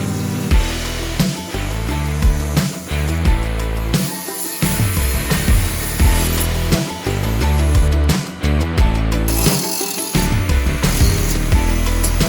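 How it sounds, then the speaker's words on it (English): Metal being cut out of a truck frame cross member on a Squarebody Ford F-350 super dually, a loud, busy tool whine that runs nearly nonstop with brief dips and restarts, close to the listener. "cut some metal out of this cross member here"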